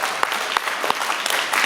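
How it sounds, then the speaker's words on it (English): A crowd at a Kwanzaa celebration at Malcolm X College claps to welcome a speaker to the stage, dense, lively applause with a few sharper individual claps standing out, close and sustained. "welcome him with a strong round of applause"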